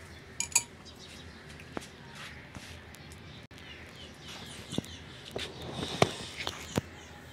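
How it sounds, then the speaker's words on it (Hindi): A spoon stirring orange sharbat in a glass gives a few light, scattered clinks and taps against the glass, quiet and fairly close, with soft background noise between them. "ये देखिए हल्का हल्का सा आप इसके अंदर चम्मच चलाएंगे तो ये बिल्कुल रेडी हो चुका है"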